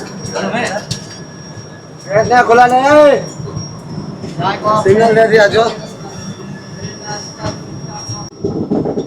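The Capital Express from Rajendranagar to Kamakhya overtakes on a neighbouring track near New Jalpaigur, approaching a junction. A steady rumble of rolling stock with a thin high whine runs throughout, beneath someone talking in bursts.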